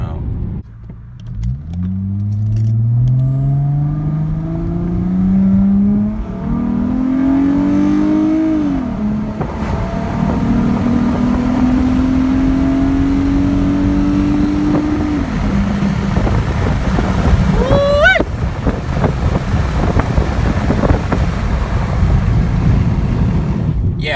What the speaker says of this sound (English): I'm gonna do another pull, but this time I'm gonna do it with the windows down